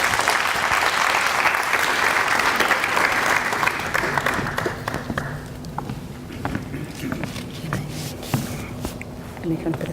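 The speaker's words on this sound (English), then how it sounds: "Please give him a round of applause." Audience at a university annual lecture applauding the keynote speaker, dense clapping for about five seconds that dies away into scattered claps, footsteps and handling noises.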